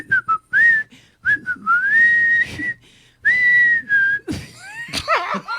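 A person whistles a wavering, halting tune in short bright phrases with gaps between them, close and clear, breaking up into looser, sliding notes near the end.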